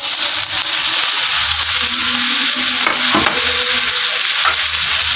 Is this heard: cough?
no